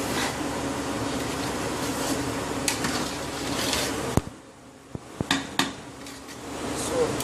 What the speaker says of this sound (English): Give it a stir from the bottom.